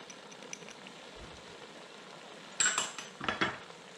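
A pot of Senegalese thieboudienne fish and rice stirred gently with a utensil, a faint simmering bed of sound with a few brief metallic clinks and scrapes near the end.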